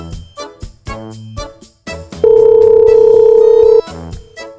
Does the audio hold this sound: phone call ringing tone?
yes